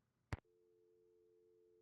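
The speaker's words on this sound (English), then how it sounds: "Sounds like she has her phone off the hook." A telephone busy signal in the Nancy Drew: The White Wolf of Icicle Creek video game sounds as a steady, quiet tone right after a sharp click.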